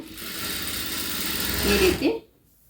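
An electric sewing machine stitches a shoulder joint on a garment, a steady mechanical whir with rhythmic needle chatter that rises briefly near the end, then stops abruptly into silence.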